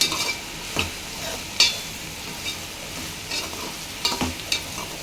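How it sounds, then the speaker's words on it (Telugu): Salted bitter gourd pieces fry in oil for a tomato curry, giving a soft continuous sizzle broken by light scraping clicks of a spoon stirring the pan up close. "కాకరకాయ ముక్కల పైన సాల్ట్ వేసుకుందాం వేసేసుకొని మొత్తం ఒకసారి కలిపేసుకుందాం"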